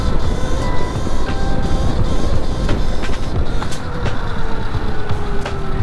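A Razor MX650 e-bike fitted with a QS120 electric motor, geared on a 53.2 sprocket, rides hard and pops a wheelie, giving a steady loud whine and rushing road noise with rattles throughout and no talking.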